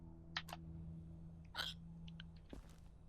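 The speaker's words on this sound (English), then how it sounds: "And hiccups." A character in the video game Quarantine Zone hiccups two or three times, each a short, sharp, close burst spaced about a second apart over a steady low electronic hum.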